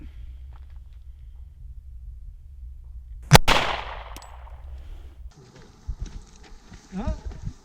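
Single sharp gunshot fired at a homemade garbage-built Captain America shield, a loud close crack with a brief ringing tail, followed by people talking.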